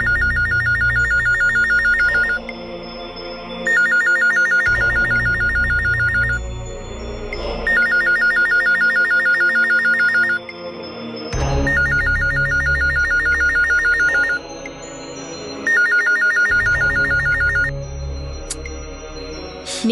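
A telephone rings during a crime drama scene, with five loud electronic ring bursts, each about two seconds long and separated by short pauses, and no talking over them.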